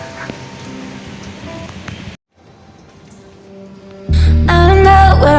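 Heavy nonstop rain hisses steadily in Morong, Bataan, a dense close-up patter that cuts out briefly, returns, and is then joined by loud music.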